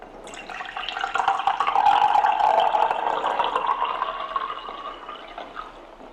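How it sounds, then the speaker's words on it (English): Hydrogen-infused water poured from a water maker into a glass, a steady close splashing stream that swells in the middle and tapers off toward the end, with no talk over it. "The hydrogen infused water, that is, and pour it in."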